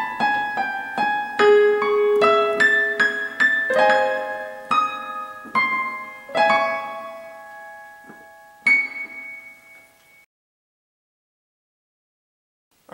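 A piano plays the introduction to a song from Over the Garden Wall, a close, clear melody over rolled chords that rings out and fades to silence, with no voice.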